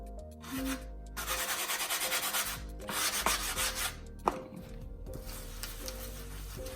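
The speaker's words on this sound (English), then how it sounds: "take your cloth, okay, and rub all this away" A cloth rubs paint away from a wooden sign in steady back-and-forth strokes, a close, dry scrubbing with a brief knock partway through and no talking.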